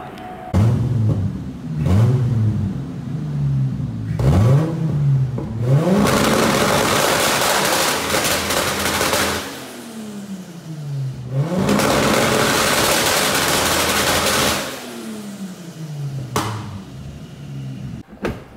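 A Toyota Supra on a dyno revs repeatedly, the engine climbing in pitch and dropping back in several loud, close sweeps, with two long sustained high-rpm pulls and brief pauses between bursts.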